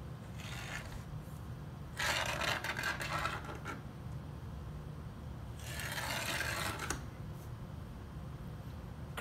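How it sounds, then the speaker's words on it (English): Deburring tool scraping along a laser-cut aluminum edge, two long rasping strokes close up with softer scraping between them, no talk. "But I'm just gonna deburr the edge of this."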